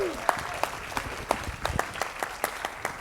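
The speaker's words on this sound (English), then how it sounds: "One more round of applause for Stefan, please." Attendees at a climate solutions technology showcase applaud a presenter, with distinct individual claps popping out over a softer wash of clapping that continues evenly throughout.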